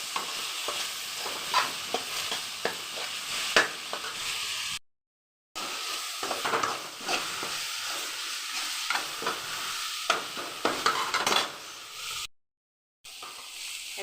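Kashmiri chili powder sautéing in a pan for fenugreek leaf kuzhambu, a continuous sizzle with repeated scraping strokes of a spoon as it is stirred, the sound cutting out twice briefly.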